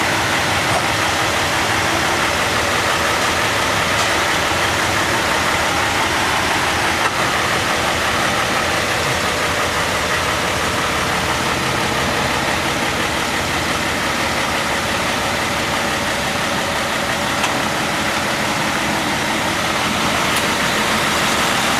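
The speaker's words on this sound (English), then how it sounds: "Beautiful tractor, one of 5 gold demos that Max has." A gold demonstrator tractor idles at a Red Power Round Up show, a steady, continuous engine rumble that holds at an even loudness from start to end, with no talk over it.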